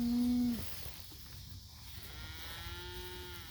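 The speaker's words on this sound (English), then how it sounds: "They're the cattle all bundled together." Cattle bunched together in a farm paddock, one loud close moo at the start, then a longer, fainter low moo trailing off later over steady outdoor background noise.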